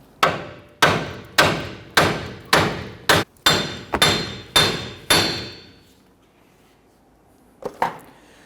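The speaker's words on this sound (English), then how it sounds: "switch over to a heavier hammer" A heavy hammer strikes a Nissan Frontier front wheel hub about ten times in a steady rhythm, loud and close, then silence and two quieter knocks.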